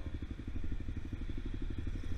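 Dual-sport motorcycle engine idling or rolling slowly on a city street, a steady rapid low thumping pulse, moderately close and fairly quiet with no talking.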